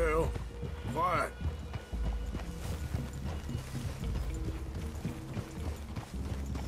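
Horse hooves clip-clop in Red Dead Redemption 2, soft rhythmic steps under in-game character dialogue and a brief neigh-like tonal sound near the start.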